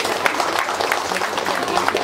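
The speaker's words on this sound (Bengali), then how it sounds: "জোরে হাততালি দেবে" Applause breaks out at a Durga Puja inauguration, many hands clapping in a steady, close rattle that holds evenly for a couple of seconds.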